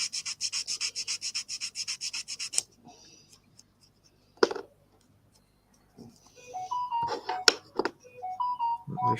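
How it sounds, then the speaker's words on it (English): Round file rasping on a fuel pump part on the side of a Bedford engine block, a fast run of close, scratchy strokes for a few seconds, then scattered clanks and a short high tonal beep sequence near the end. "I've got the old round file in there."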